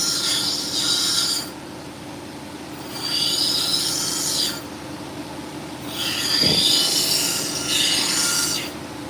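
An 80 grit lapidary wheel grinds a black boulder opal in three rasping bursts separated by quieter gaps as the stone is pressed on and lifted, over a continuous low motor hum.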